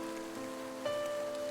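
Steady rain pattering on surfaces in a horror story setting, a storm outside a cafe with a smashed front window; a continuous, even wash of rainfall with faint tonal music underneath and no voices.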